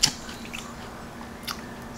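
Crunchy salad with croutons and Parmesan being bitten and chewed up close, a few crisp crunches at the start and near the end over quiet background, no talking.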